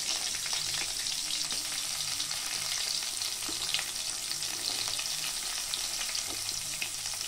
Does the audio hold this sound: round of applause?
no